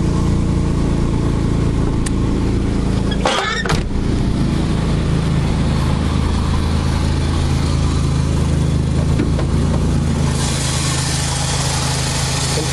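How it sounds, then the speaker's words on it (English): A 1996 Pontiac Bonneville with its 3800 engine runs with a loud exhaust, a steady low rumble that holds for the whole stretch, with a brief rise in the middle and no talking. "The exhaust is kind of loud on it"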